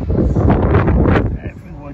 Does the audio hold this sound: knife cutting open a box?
no